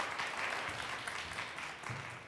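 Studio audience applause welcoming a paediatrics doctor guest onto a medical talk show, a soft continuous wash of clapping heard at a low level.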